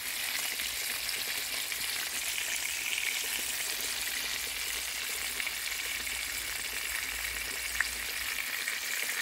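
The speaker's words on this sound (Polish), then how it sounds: "Kotleciki się tutaj robią, no. To jest gotowanie, tak to można smażyć." Minced pork cutlets fry in a pan in an outdoor summer kitchen under an arbor, giving a steady, even sizzle with faint crackles throughout and no talking.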